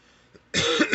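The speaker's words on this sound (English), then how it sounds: "I did have to cough." A single person coughs once, a short sharp close burst after a faint breath, with no other sound around it.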